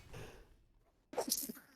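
A single sneeze bursts out sharply near the end, preceded by a short breathy inhale and a moment of quiet, close to the microphone.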